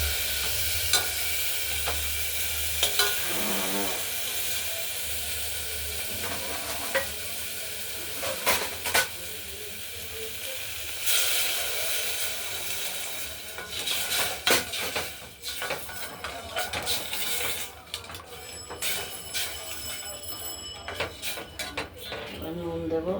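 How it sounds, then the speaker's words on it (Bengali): A spoon stirs moong dal with tempering in a pressure cooker, metal scraping and clinking against the pot over a soft sizzle, irregular strokes with pauses throughout. "ভাজবো না, নেড়ে চেড়ে দিয়ে দেবো।"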